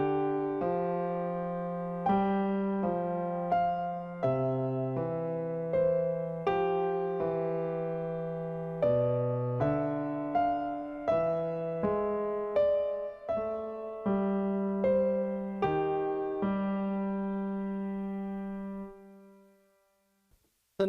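Solo piano plays an eight-measure Alice in Wonderland melody with steady, evenly spaced notes over simple low accompaniment, moderately soft and ending on a held chord that fades out.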